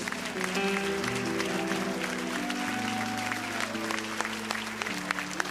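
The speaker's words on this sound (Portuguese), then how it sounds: "Podem louvar a Deus com palmas, meus irmãos." Congregation at a Tuesday evening church service clapping in praise, sustained crisp handclaps filling the room over a held musical tone and faint voices.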